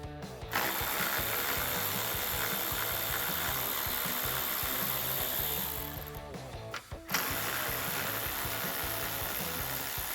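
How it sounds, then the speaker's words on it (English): A power tool drives a 10mm socket to remove headlight bolts on a 2009-2014 Ford F-150: a steady close whirring drone that breaks off briefly near the end and then resumes, with no voices. "let's use our 10mm socket to remove those"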